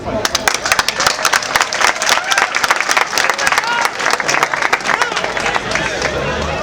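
A large audience claps loudly at the opening of a university sports gala, sharp individual claps standing out within a thick, continuous round of applause mixed with crowd murmur.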